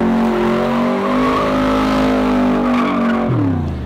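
A powerful AC Cobra engine revving loudly and holding a high growl for a few seconds, then dropping in pitch, close and unaccompanied.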